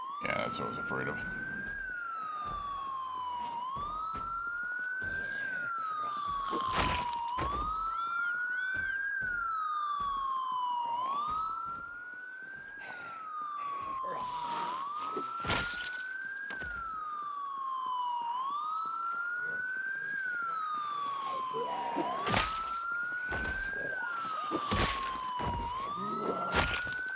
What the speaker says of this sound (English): I want to turn this damn siren off because it's so damn loud.